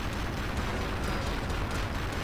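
Gunfire in the side-scrolling game Cortex Command with a pirate camp mod, a dense, noisy roar of shots and blasts repeating every half second or so, continuous and loud with no pause.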